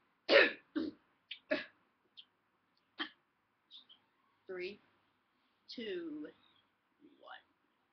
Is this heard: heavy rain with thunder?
no